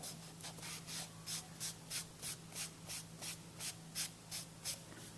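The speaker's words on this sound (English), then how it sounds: "Rub that stain in." A cloth rubs stain steadily back and forth into a wooden coaster, producing about a dozen soft, rhythmic hissing strokes, close and quiet.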